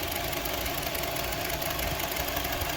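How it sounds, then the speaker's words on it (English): A Honda CR-V engine idling roughly at under 500 RPM, a steady close mechanical rumble with knocking and shaking vibration throughout, no voices. "the engine stalling and very slow RPM. The RPM now is almost like below 500, and you can see the engine is still shaking"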